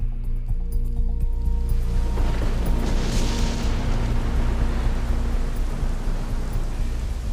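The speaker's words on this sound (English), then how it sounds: "it looks like it's started to rain" Rain falling at Mother Base in Metal Gear Solid V: The Phantom Pain, a dense continuous hiss that swells after the first couple of seconds over a low rumbling game ambience, with no voices.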